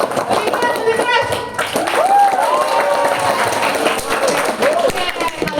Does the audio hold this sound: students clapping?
yes